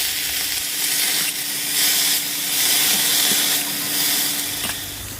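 Greens frying in oil in a pan, a steady close sizzle and hiss with surges of crackle rising and falling throughout, no voices.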